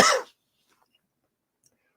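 A single short, harsh cough from someone with a bad upper respiratory infection, close and loud for a quarter second before the room falls silent.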